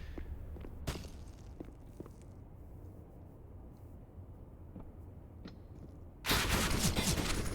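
Sparse sharp rifle cracks and soft footsteps echo through a quiet Counter-Strike match on the Nuke map, a wall-penetrating shot among them, before a loud burst of dense gunfire erupts near the end.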